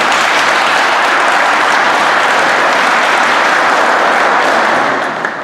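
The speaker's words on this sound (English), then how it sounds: "Can we all give her a round of applause, please?" Banquet audience at an awards dinner gives a sustained round of applause, dense steady clapping from the whole room for about five seconds, fading slightly at the end.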